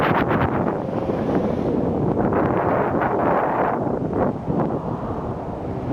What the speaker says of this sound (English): It seems a lot windier on this side.